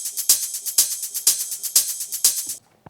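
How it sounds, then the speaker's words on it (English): An electronic drum loop from a remake of a song, with bright, crisp hi-hats and a shimmering ride over a steady kick pattern, repeating in a tight groove. "So altogether the drum sounds like this"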